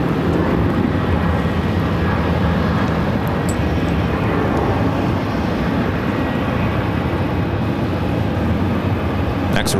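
A Southwest airliner lands on runway 26 at Phoenix airport, a steady broadband jet roar that fills the whole stretch with a continuous rumble and hiss, loud and unbroken throughout.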